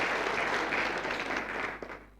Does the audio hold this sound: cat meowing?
no